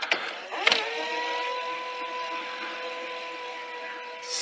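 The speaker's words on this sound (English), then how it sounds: "Just spinning out tape everywhere." A faulty Sony HF100UB Hi-Fi Betamax VCR running and spinning out tape: a steady mechanical whir with a sustained motor whine, preceded by a couple of brief clunks near the start, close and alone.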